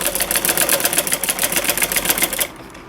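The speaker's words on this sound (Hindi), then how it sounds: "तो चलिए मैं इस सिलाई को लगा लेती हूँ" A sewing machine stitches piping onto the hem of a Punjabi salwar in a quick, even rhythm of needle strokes, close and loud for over two seconds before stopping abruptly.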